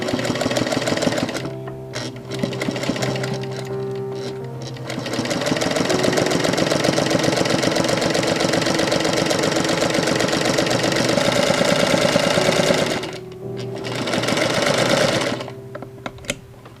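A sewing machine stitching fabric for a wrap dress runs loud and close in long steady whirring stretches, with brief stops and restarts between seams.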